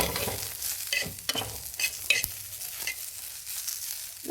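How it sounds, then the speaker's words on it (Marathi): Green chillies and garlic roast and stir in a pan for bhendi thecha, giving a dry crackling sizzle with scraping stirs and occasional sharp pops, close and moderately loud with no talk. "मिरच्या आणि लसूण आहे ते एकत्र भाजायचे आपल्याला."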